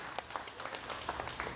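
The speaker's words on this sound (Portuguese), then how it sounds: "Pode aplaudir o Senhor." A church congregation applauds during a sermon, with distinct claps, some of them in loose rhythm, heard at a distance and fairly quiet, with no talking over it.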